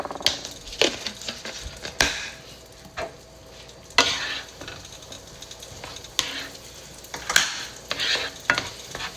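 Butter sizzling in a pan while being stirred, with soft continuous frying crackle broken by repeated scraping strokes of the utensil against the pan, close and fairly quiet, without talk.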